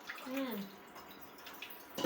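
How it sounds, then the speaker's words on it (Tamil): Tap water runs into a container during a family's home morning routine, a soft, steady trickle that briefly sits under a voice near the start, with a louder splash at the end. "தண்ணி பிடிச்சிட்டாங்க."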